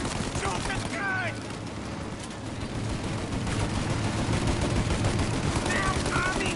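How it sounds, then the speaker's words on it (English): Gunfire in the Mafia video game, rapid rattling bursts of shots running continuously under a busy, noisy mix, with faint voice-like chatter at moments. "Shoot out your gun when there's a break in the fire. Now, shoot the gun."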